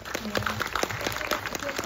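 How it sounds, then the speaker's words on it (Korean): Audience applause at a film festival screening Q&A, a steady patter of many hands clapping close by, with a voice speaking over it. "박수 부탁드리고요"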